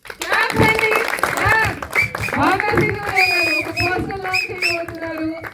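Clapping from an audience at a film trailer launch event runs under loud, excited talk over a microphone, with cheering voices rising in and out.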